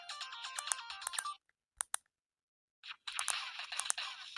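A Nokia 110 (2022, TA-1441 DS) plays its ringtone, a bright electronic melody of quick repeated notes that stops, leaves a short gap with a couple of clicks, then starts again, loud and close.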